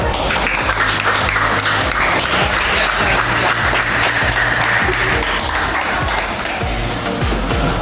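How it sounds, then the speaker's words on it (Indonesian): A crowd of students applauds together in sustained, dense clapping that stays loud throughout, with faint voices mixed in underneath. "Kita kasih aplaus semuanya."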